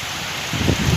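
Rain pours over mango trees in a windy storm, a brief burst of dense, close hissing that swells louder halfway through.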